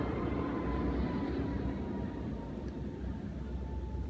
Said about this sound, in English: Airplane flying over.